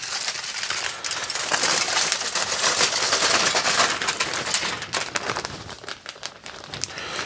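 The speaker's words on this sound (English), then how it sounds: "put them in this plastic bag here" A plastic bag crinkles and rustles loudly and continuously as small turned wood pieces are dropped into it, with occasional sharper rattles toward the end.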